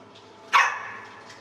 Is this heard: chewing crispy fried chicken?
no